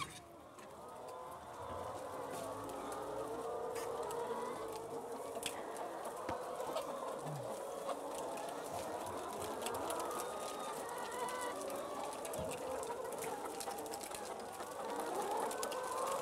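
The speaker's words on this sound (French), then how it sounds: "Donc les poules, ce lot de poules" Many laying hens cluck and murmur steadily throughout a poultry barn, a dense, continuous chorus of overlapping calls at moderate distance with no talk.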